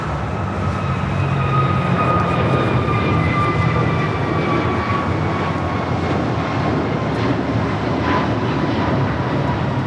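A jet aircraft taking off from runway 25 right at LAX, a loud, sustained engine roar with a steady whine, heard close and unbroken with no talking.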